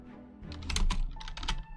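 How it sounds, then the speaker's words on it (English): Fingers type on a computer keyboard into a notepad file, a quick close flurry of clicking keystrokes. "secret notepad file that I'm typing in at the moment"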